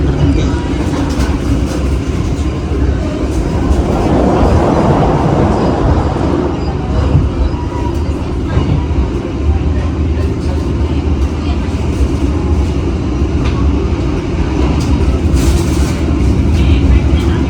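A train rolls past on the Solo to Semarang line near Telawa station without stopping, a loud, continuous rumble and rattle of cars lasting throughout.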